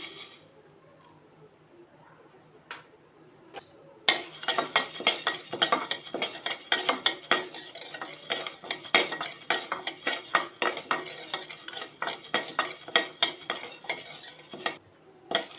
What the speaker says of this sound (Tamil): இப்போ துவரம் பருப்பு வறுத்துக்கலாம்.